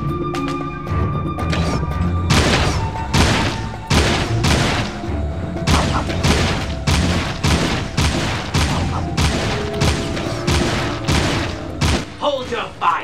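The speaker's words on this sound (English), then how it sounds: "Now try discharging your weapon." A weapon fires again and again in Jak and Daxter: The Lost Frontier, a series of sharp, loud blasts spaced about half a second to a second apart across the whole stretch, with game voices and effects in the background.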